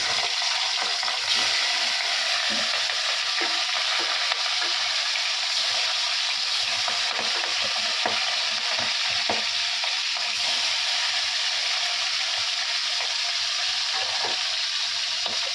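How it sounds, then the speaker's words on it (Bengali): Bhetki fish sizzling steadily in a hot pan, a dense continuous hiss with scattered pops and light scraping, close up and without speech. "মাছগুলো আমি অলরেডি ভাজা বসিয়ে দিই"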